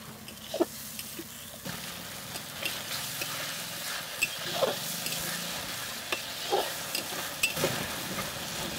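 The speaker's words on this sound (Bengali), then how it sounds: "এখন মশলাটাকে ভালো করে কষিয়ে নেব।" Spice paste with turmeric, salt and a little water frying and being stirred in a pan, a constant close sizzle with regular scraping and tapping strokes of a spoon throughout.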